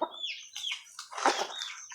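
A chicken clucks and squawks in a few short bursts close up, its calls rising and falling with brief gaps between them.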